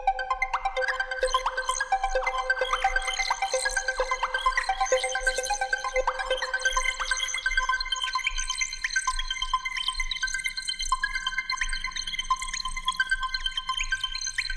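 An arpeggiated GMS synth melody in FL Studio runs through a reversed Portal effect preset and reverb, giving a washy, shimmering repeating pattern over a faint low pulse, thinning toward the end as a quiet pad tone enters.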